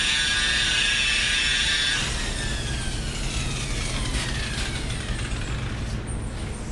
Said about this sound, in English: Let's get a close-in of him as he machine glazes